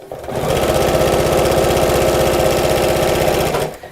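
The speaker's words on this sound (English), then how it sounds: "I'm going to sew the tape edge to edge all the way around" A sewing machine stitches tape along the edge of a car seat organiser, a loud, fast, even mechanical chatter that starts, runs steadily for a few seconds at close range and then stops.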